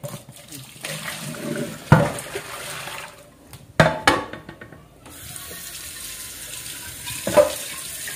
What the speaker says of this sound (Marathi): गरम पाण्यानं पाईपला काय होणार नाही ना